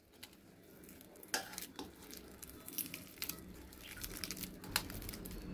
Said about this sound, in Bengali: এখন সবগুলো কলাকে সুন্দর করে চটকে নেব।